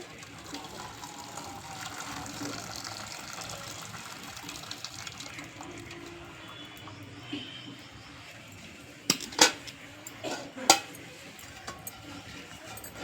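Water poured off boiled broad beans (chikkudu) straight from the pot without a strainer, a steady low splashing trickle with a few sharp clinks of the vessel near the end.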